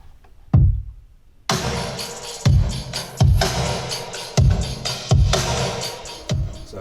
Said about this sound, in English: I like to layer up my snares just to give it that full thick sound.